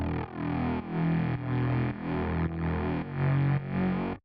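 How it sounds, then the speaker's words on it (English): A Serum synth bass run through iZotope Trash 2 distortion, gritty and saturated, playing a steady pattern of sustained notes with brief gaps, loud and upfront with no other sounds. "So really Trash 2 from iZotope is what's giving this bass sound all that character."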